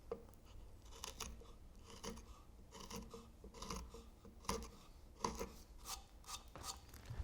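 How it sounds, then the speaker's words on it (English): A wood chisel held bevel down makes scoop cuts on a wooden finial, a series of crisp, close scraping and paring strokes repeating in an uneven rhythm, each short and bright, with no talking. "So I'm using the chisel bevel down and making some scoop cuts to clear away some of the waste"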